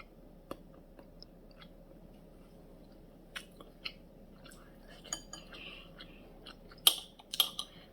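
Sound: chewing tofu

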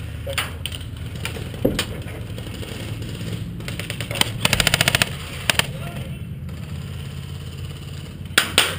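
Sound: airsoft gun shooting

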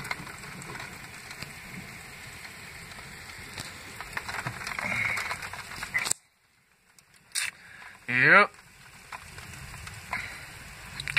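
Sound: rain falling outside

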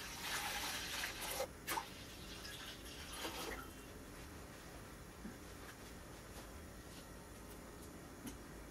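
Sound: water being poured into a cooking pot

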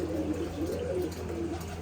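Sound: pigeons cooing

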